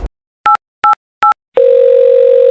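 A telephone sounds three short, evenly spaced dialing beeps, followed by a loud, steady tone, as a call is placed to the fire department about a house fire.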